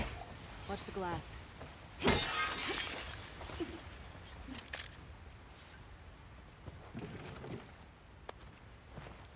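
Glass shatters loudly in The Last of Us Part 2, a sharp burst of breaking glass with clinking debris, followed by scattered footsteps and smaller clinks as people talk.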